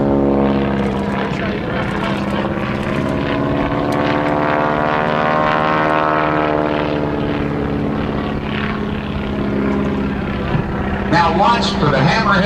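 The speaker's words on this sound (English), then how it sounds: "As he tumbles the airplane called a Linshavak," An open-cockpit aerobatic propeller airplane tumbles at an airshow, its engine droning loudly with rising and falling pitch as it maneuvers, while an announcer talks over it.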